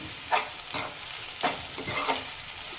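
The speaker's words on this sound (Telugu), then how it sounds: "అల్లం వెల్లుల్లి పేస్ట్ మంచిగా కలుపుకోవాలి" Ginger garlic paste sizzles in a hot pan for anda bhurji while a spoon stirs it, a steady close fry broken by a few scraping stirs.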